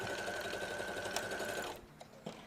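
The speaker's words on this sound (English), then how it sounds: "we're going to sew one side. Take the next one, sew one side." Sewing machine stitching one side of a quilt block, a quiet fast steady whir that stops after under two seconds, followed by a couple of faint handling clicks.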